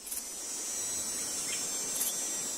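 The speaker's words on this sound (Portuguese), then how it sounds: "O som das cigarras se intensifica, assim como os sons de grilos e gafanhotos." Cicadas, crickets and grasshoppers in the July summer heat of the southern Iberian peninsula, a faint, steady high-pitched buzzing drone over soft background hiss.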